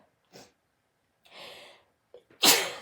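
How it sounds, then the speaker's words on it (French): A person sniffs and takes a few short breaths, then lets out one loud, sharp sneeze at the end. "Oh, je sens que je vais éternuer."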